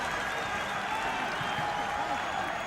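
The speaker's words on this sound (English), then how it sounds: "And a big round of applause for Mark Rudin." A large stadium crowd at a football grand final, Sydney FC vs Central Coast Mariners, applauds steadily, a broad continuous wash of clapping heard from a distance.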